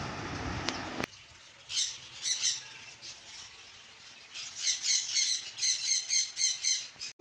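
Conure parrots, including a yellow-sided conure, in a bird shop let out a run of harsh, repeated squawks, sporadic at first and then in a steady rhythmic burst, fairly near, after a brief loud clatter at the start.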